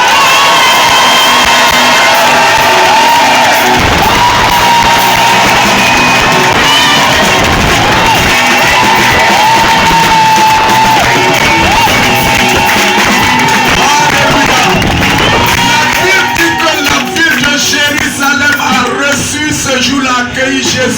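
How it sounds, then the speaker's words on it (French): A church congregation at a morning service shouts, whoops and cheers for Jesus in a loud, sustained crowd roar, with children's shouts and voices woven throughout. "est-ce qu'on peut faire du bruit pour Jésus ce matin"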